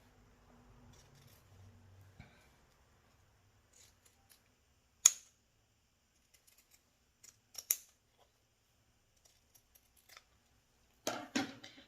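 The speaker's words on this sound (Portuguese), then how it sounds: "Vou cortar aqui ao redor do meu decote todo." Scissors cut around a dress neckline in fabric, isolated sharp snips scattered across the stretch with a short clustered burst near the end, close and quiet, preceded by a faint low rumble.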